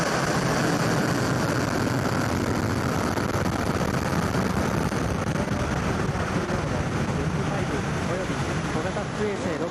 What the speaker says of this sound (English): Main engine start.